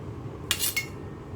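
A plate clinks twice in quick succession as it is handled to take out boiled meat, two short, bright sounds close by over a quiet background.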